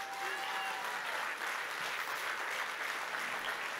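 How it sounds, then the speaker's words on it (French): A crowd at a political rally gives a sustained round of applause, an even, continuous roar of clapping at one steady level with no speech above it. "Vous pouvez les applaudir vraiment hyper fort."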